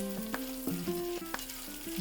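Green chilies fry in a pan for veg fried rice tempering, making a faint, soft sizzle with a few light stirring knocks.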